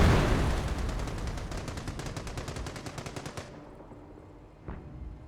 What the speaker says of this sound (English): 20 centimeter rocket barrage was summoned.